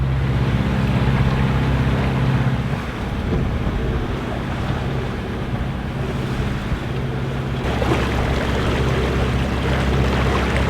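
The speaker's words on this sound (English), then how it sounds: "We've turned off the engine, as you can hear, and we're under sail." Sailing boat under sail with its engine turned off, off the Isle of Wight: steady rushing wind and water wash against the hull, loud and continuous with no motor hum.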